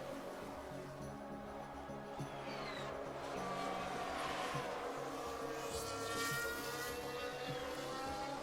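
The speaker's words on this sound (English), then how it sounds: "Loads of cars heading for the track now." Formula 1 race cars from F1 Manager 24 heading out onto the Barcelona track for qualifying, a steady low engine drone with faint higher whines passing, distant and continuous.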